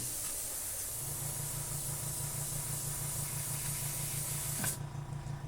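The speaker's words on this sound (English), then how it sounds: "I just sprayed heavily right there so I can show you" An airbrush sprays craft paint onto a galaxy-themed tumbler in a steady, close hiss that runs for several seconds and then cuts off abruptly with a brief squeak, with no talk.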